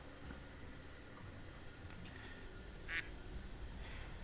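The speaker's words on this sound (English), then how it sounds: "Can't hear you over the incessant quacking." A single short duck quack from a soundboard sounds once during a Grim Dawn co-op session, brief and fairly clear above a steady hiss of background noise.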